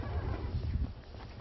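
Horses being led into a stable at a livestock dipping center, with herdsmen nearby; a fairly close whinny and some hoof clatter rise over a steady low rumble.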